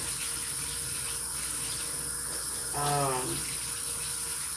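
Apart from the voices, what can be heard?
water running from a tap to fill a glass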